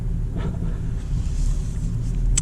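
A 2023 Porsche Macan S pulls away from inside the cabin, its low engine rumble steady and close throughout, with road and wind noise layered on top and no talking.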